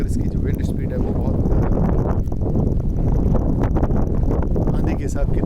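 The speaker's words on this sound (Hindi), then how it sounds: "हल्की फुल्की हवा चल रही है" A light wind blows during a Thar desert sandstorm near Jaisalmer, a steady, loud, broadband rush and buffeting against the microphone throughout, with no words spoken.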